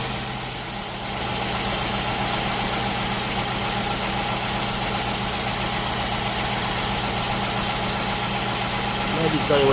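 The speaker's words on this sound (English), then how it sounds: "these motors, these LS1s, are prone for lifter noise" A 2004 Holden Commodore VZ SS with an LS1 V8 idles steadily and close by, a continuous low engine rumble with faint ticking lifter noise running through the whole stretch.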